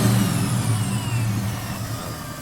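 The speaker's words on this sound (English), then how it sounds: "Let me just give it some revs here." Shelby Cobra engine revving up and holding at raised speed, a loud, close, rumbling drone that eases slightly toward the end, with no talking.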